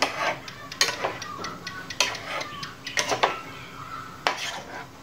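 A spoon scrapes and clinks against a pot while candied santol is stirred, giving irregular sharp metallic knocks over a faint steady background.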